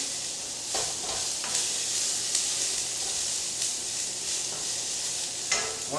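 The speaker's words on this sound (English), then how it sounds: "And we'll stir fry that for about a minute." Prawn curry ingredients sizzle steadily in a hot pan during stir frying, a bright constant hiss broken by a few scraping stirs.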